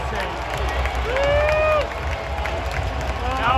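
A Florida Panthers home crowd at a playoff hockey game against Edmonton cheers goalie Bob after a save, a broad, loud roar filling the arena, with a whistle-like tone rising above the noise partway through.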